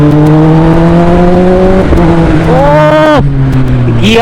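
A motorcycle on a Sunday ride revs hard through rising engine pitch, dropping briefly as a gear is shifted before climbing again, loud and close throughout.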